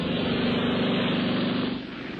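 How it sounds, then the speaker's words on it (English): A propeller airplane called the Songbird drones loudly and steadily overhead, its engine holding an even roar before easing slightly at the end. "Doc's flying the Songbird"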